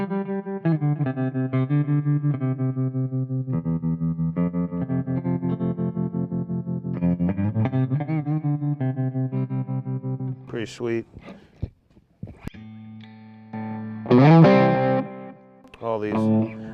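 An electric guitar played through a tremolo effect gives chords and notes a rapid, pulsing volume throb, loud and close, then breaks off into a few scattered notes as someone speaks briefly near the end.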